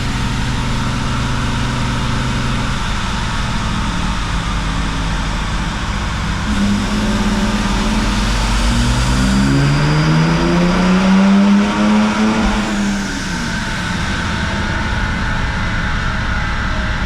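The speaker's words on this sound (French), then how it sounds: "c'est pour vous faire écouter la douce mélodie du diesel" Stage 3 tuned BMW 330d diesel with a manual gearbox drones loudly, then revs hard with its pitch rising for a few seconds before falling back to a steady rumble.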